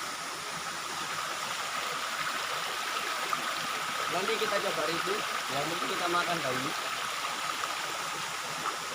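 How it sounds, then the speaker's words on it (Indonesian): A spring-fed stream at Putuk Gragal pours down like a small waterfall in a constant, full rushing hiss, while someone speaks over it for a few seconds. "Ini ada aliran air seperti air terjun."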